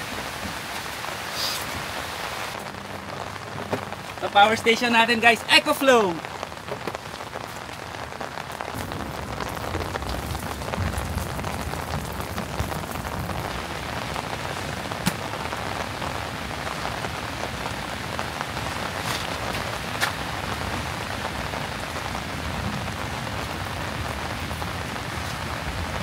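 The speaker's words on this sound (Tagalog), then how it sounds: "lalong lumakas ang ulan." Heavy rain falls steadily on a campsite in Baguio, a dense continuous patter close by, with a person speaking briefly early on.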